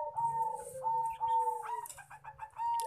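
A zebra dove or spotted dove coos close by in a series of soft, repeated notes followed by quicker rhythmic calls.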